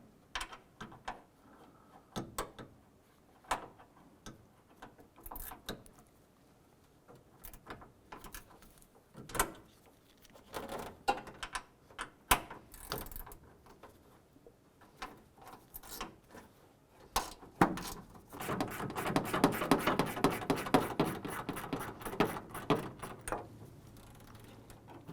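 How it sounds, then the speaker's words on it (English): A ratchet loosens 10mm bolts on a 2004-2012 Chevrolet Colorado during hood release cable work: scattered metallic clicks and clunks, then a sustained burst of rapid ratchet clicking, close by. "I'm going to go ahead and remove these last two 10mm bolts right here"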